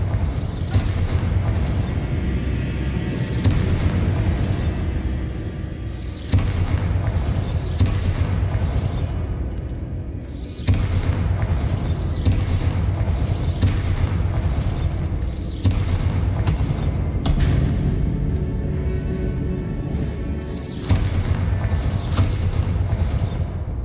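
Repeated Bombarda blasting spells burst in Hogwarts Legacy, loud booming explosions recurring every few seconds over a dense rumbling game backdrop, with no talk.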